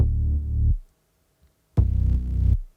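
Distorted sub bass from a Phase Plant preset with distortion snap-ins, two loud sustained gritty notes with a slight throb, separated by a second of silence.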